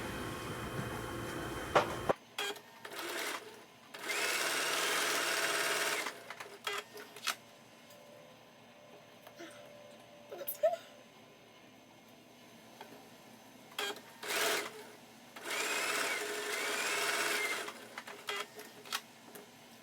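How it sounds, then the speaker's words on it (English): Home sewing machine stitching quilt border pieces together, running in several separate bursts of steady mechanical whirring with quiet pauses between them, no talking. "Okay, now these will get sewn together."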